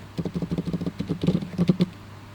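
Close, fast typing on a computer keyboard while entering code, a quick run of distinct key clicks in a steady rhythm followed by a few heavier strokes.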